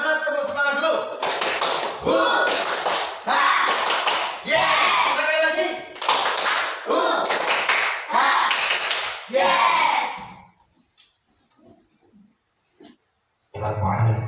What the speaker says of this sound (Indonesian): Biar tambah semangat, tepuk semangat dulu.